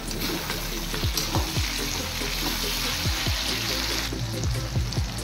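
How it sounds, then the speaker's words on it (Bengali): Flat beans and tomatoes sizzle steadily while being sautéed in a pan, a continuous hissing fry with faint watery crackle and a few soft low thumps, no voices. "বন্ধুরা সবজি সাঁতলে নিয়েছি, এবার দিয়ে দেব দুটো বড় সাইজের টমেটো।"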